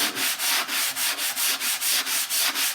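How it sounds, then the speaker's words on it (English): Repeated rhythmic sanding strokes, about ten back-and-forth rubs of abrasive on wood at a steady pace, close and fairly loud with no talking. "I'm going to start with my sanding block, and I'm just going to sand"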